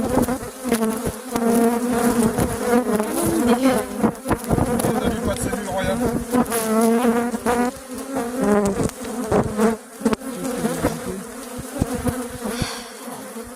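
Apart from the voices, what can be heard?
honeybees buzzing around hive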